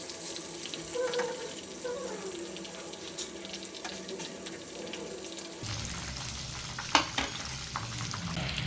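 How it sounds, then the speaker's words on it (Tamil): Chicken cheese balls deep-frying in oil over a low flame, a continuous soft bubbling sizzle with a brief clink partway through, no voices. "இப்போ எல்லாத்தையும் திருப்பிட்டு லோ ஃப்ளேமில் கோல்டன் ஃப்ரை ஆகிற வரைக்கும் நம்ம பொரிச்சு எடுத்துக்கலாம்."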